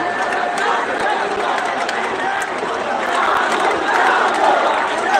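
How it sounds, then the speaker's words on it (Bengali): Protest crowd of students and others in Chittagong at a quota movement rally, a loud dense roar of many voices chanting and shouting slogans together, continuous and close throughout. "আন্দোলনকারীদের পক্ষে স্বৈরোচ্চার নিপাত যাক এই ধরনের স্লোগান তারা দিয়ে যাচ্ছে"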